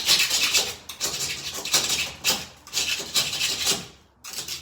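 Repeated scraping strokes of an impact hand scraper rasping old layers of paint off a wall, rhythmic pushes with short pauses between, close and fairly quiet.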